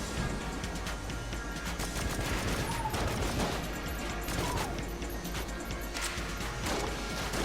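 Gunfire rings out in Enter the Gungeon as enemies are shot, with bursts of crashing, thwacking shots and impacts scattered over a busy game soundscape and no voices on top.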